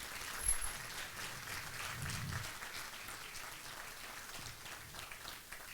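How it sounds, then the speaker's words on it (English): Banquet guests give a steady round of applause, a soft, even wash of many hands clapping heard from a distance in a large room. "let's give staff a round of applause for coming up with this great idea"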